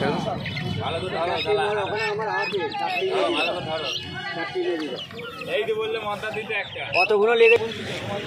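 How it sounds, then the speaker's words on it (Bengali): Ducklings, white and black, crowded together at an Uluberia bird market, peeping and cheeping continuously in a dense chorus, with poultry clucking around and someone speaking over the noise. "তো এখানে কিছু হাঁস বাচ্চা রয়েছে দেখতে পাচ্ছ"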